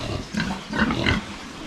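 Pigs on a farm, grown large enough to weigh near 80 kilos, give a few low, close grunts in short bursts over a steady background hum.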